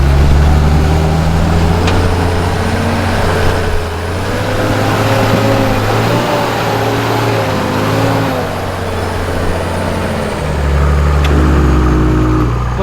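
A Nissan GQ Patrol 4WD engine labours up a steep track near Lithgow, New South Wales, a loud continuous droning rumble with shifting revs throughout, no talking.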